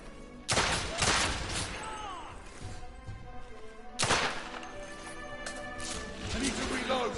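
Gunfight in The Order 1886 with two loud bursts of close gunfire a few seconds apart, echoing crashes and ricochets between them, while voices shout underneath.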